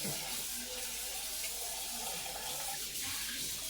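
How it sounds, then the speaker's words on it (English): Tap water runs steadily into a kitchen sink as a pot of smoked turkey necks is strained, a continuous close splashing rush with no voices. "So again, I'm going to strain it off in the sink."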